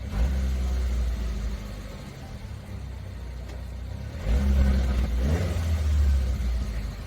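A Suzuki Samurai Jimny engine idles while still cold and warming up, a close, steady low rumble with a slight rise in intensity partway through.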